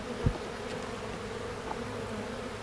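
Honeybees buzz faintly and steadily in a sparsely populated hive during a combining of hives. A soft, even drone runs throughout, with one brief low bump near the start.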